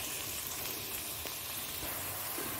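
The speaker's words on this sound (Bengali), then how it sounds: "পেঁয়াজটা ভাজা হয়ে গেল" Onions frying in a pan give a soft, even crackling sizzle like light rain, steady and continuous from start to finish at a modest, close level.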